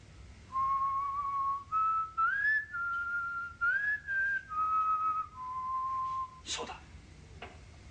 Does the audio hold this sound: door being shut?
no